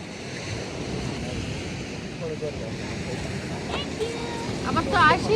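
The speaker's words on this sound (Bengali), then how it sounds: "সমুদ্রের গর্জন, সমুদ্রের গর্জন" Sea waves rolling in at high tide on a coast near a village, a steady broad roar with wind buffeting the microphone and swelling louder toward the end, with brief faint voices in the background.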